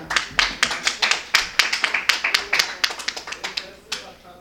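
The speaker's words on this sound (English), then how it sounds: "can we please give her a round of applause" Audience applause at a women in leadership event as a parliamentary candidate is welcomed to speak, a burst of clapping from a room of people that thins and fades over a few seconds.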